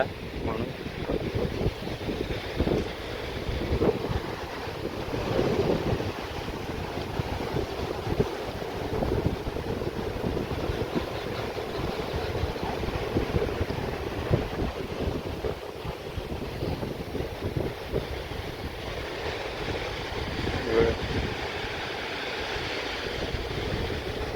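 Sea waves break near the shore at Guhagar, heard from a coastal garden a short walk from the sea as a steady, distant wash of surf mixed with gusting wind noise across the whole stretch.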